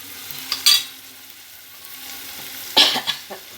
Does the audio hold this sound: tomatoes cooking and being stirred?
yes